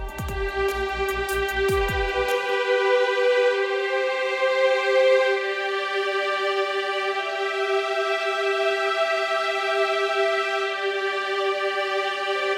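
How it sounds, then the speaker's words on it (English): Sampled orchestral violins play a sustained chord with rich harmonics, smoothly and steadily, preceded by a brief rhythmic pulsing figure at the start. "I'm just using the violins on their own"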